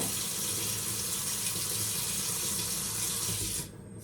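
Water runs in a steady, close rush for several seconds while being dripped onto a hookah at home, then cuts off abruptly near the end, leaving faint room noise.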